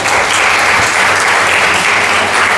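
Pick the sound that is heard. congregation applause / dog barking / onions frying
congregation applause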